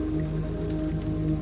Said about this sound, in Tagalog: Ngunit hindi tumigil ang ulan.